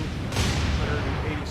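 Destroyer guns firing a high-explosive salvo in the naval video game War on the Sea, with one loud, close boom breaking out and rolling into a rumbling tail, followed by a second crack near the end.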